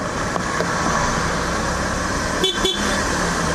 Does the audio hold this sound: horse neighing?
no